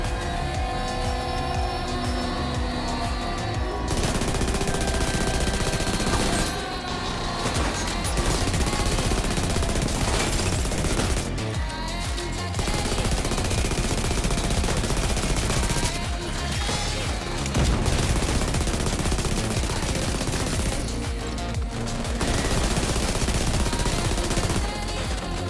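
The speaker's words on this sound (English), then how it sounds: "Assault rifle." Sustained automatic assault rifle fire in The Division 2, loud dense bursts of rapid shots broken by brief pauses, continuing throughout with no talking.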